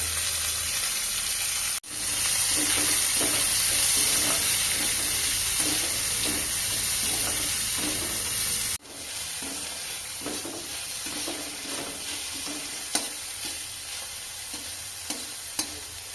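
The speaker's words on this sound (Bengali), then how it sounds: "কিছুটা তেল দিয়ে পেঁয়াজগুলোকে ভালো করে ভেজে নেব" Onions frying in oil give a loud, steady sizzle close by, overlaid with rhythmic stirring scrapes, and the hiss drops briefly twice as the pan is adjusted, with no talking.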